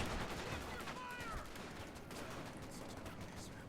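Rapid, dense video game gunfire from a battle in a tournament match, continuous bursts of shots layered over a busy game soundscape, with a commentator's voice talking over it.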